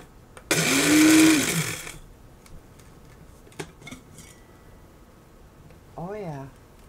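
Blender grinding ingredients for homemade edible glitter, a loud whirring burst for about a second and a half with a rising pitch, then quiet clinks and a brief later whir.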